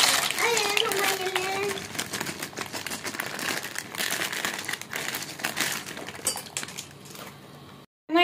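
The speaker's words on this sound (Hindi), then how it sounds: "अब हम इसके अंदर जो है ना वो पास्ता डालेंगे बॉयल करने के" Dry macaroni pasta tipped into a pot of salted, oiled water for boiling, giving loud crinkly rattling and clattering for several seconds with a voice talking over it, then a sudden stop.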